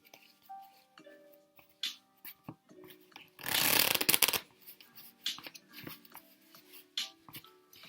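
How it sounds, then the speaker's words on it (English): Playing cards are mixed by hand, with soft taps and slides leading into one loud riffle shuffle lasting about a second, followed by more light card handling close by. "I'm going to start off by just giving these cards some mixes"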